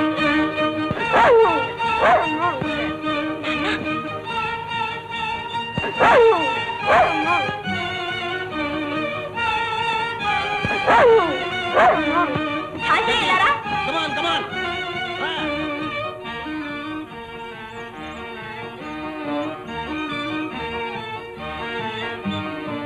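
Dog barking and yelping in several loud bursts with whimpering and howl-like cries between, close by, the barking thinning out toward the end.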